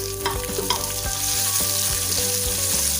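Onions fry in a little oil over low to medium heat for dhaba-style daal mash, with a steady close sizzle broken by the scrape and clatter of stirring.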